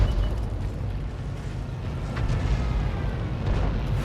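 An SU-8 self-propelled artillery shell striking a building in a video game, a heavy, low rumbling roar that stays steady and fairly loud throughout the few seconds.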